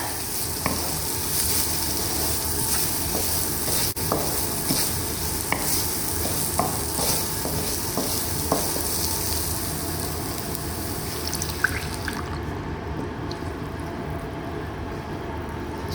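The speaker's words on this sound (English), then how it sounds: "We will drop in the yogurt mixture with the water that I made earlier." A continuous loud sizzle of a yogurt and water mixture in a hot pan for Punjabi kadhi, with occasional soft clicks of stirring, steady throughout and easing slightly near the end.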